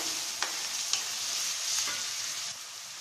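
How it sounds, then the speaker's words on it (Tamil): Onions frying in butter until golden, a steady close sizzle with two sharp stirring clicks early on and a softer scrape later, no voices. "வெங்காயம் நல்லா கோல்டன் கலரில் வதங்கணும் பட்டரில் வந்து வதக்கும் போது நல்லா டேஸ்ட்டாக இருக்கும்"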